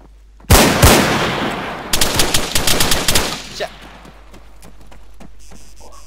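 Gunfire in the military game Arma 3: a sudden loud shot, then a rapid close burst of automatic fire that fades into quieter scattered sounds.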